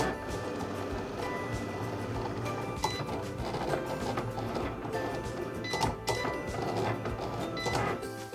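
Cricut Explore cutting machine slicing heavyweight cardstock: a continuous close mechanical whirring and buzzing with irregular clicks and clacks as the blade carriage moves back and forth.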